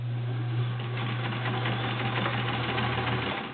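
A vintage 1970s Kenmore Model 1410 sewing machine stitching through eight layers of thick denim, running at a steady fast rattle with a constant motor hum, loud and close, with no talking.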